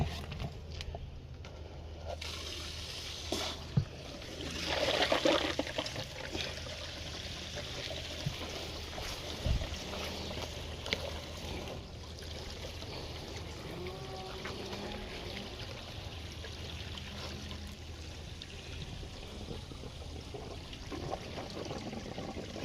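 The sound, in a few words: irrigation water flowing through opened gates in banana plantation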